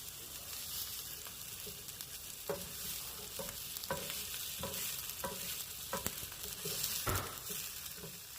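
Shrimp and cheese fry crispy on a griddle with a steady soft sizzle, broken by light scraping and stirring clicks from a spatula at irregular intervals, close and fairly quiet.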